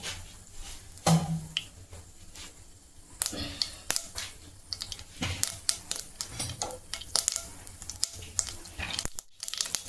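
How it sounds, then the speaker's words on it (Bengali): Mustard seeds crackle and splutter in hot oil with a bay leaf in a pan, irregular sharp pops scattered over several seconds while a person talks. "এই যে সর্ষে ফোড়ন দিয়েছি"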